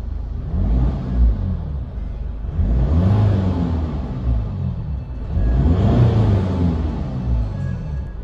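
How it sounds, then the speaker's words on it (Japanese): Diesel engine of a Mercedes-Benz CLA 200d coupé, heard from inside the cabin while driving: a low, muffled rumble that swells in three waves of acceleration and eases between them, with no talk. "車内から聞こえるエンジン音はこんなイメージです。"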